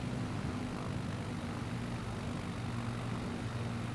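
A propeller plane's engine in Microsoft Flight Simulator hums as a steady, loud, continuous drone with a low tonal buzz, holding even throughout with no voices.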